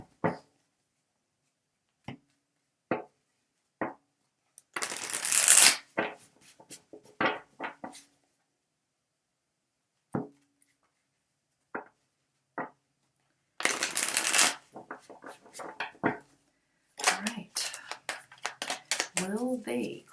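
Tarot cards are shuffled by hand in two dense riffling bursts, with scattered light card taps and handling noises between them, close and fairly quiet, and a voice talks in places.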